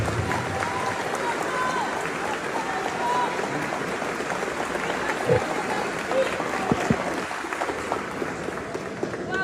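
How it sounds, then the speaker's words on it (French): An audience applauding, a steady, moderately loud wash of clapping that lasts throughout, with voices murmuring underneath. "Applaudissez-vous encore une fois,"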